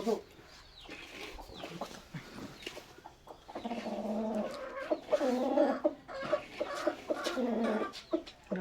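A chicken clucks and coos repeatedly at close range while people talk over it outdoors beside a fishing spot.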